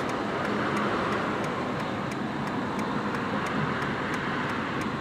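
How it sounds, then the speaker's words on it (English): Cars passing on a road at a busy time, a continuous broadband traffic rush with steady engine and tyre noise and faint regular ticking, moderately loud with no talk. "Where are all these cars coming from?"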